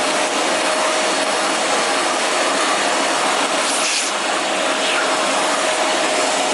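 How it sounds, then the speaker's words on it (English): Loud, steady whooshing roar of a Vax Air Revolve Pet canister vacuum cleaner running continuously, with no talking. "Vacuum does not have enough power really to pull it off the lint pickers."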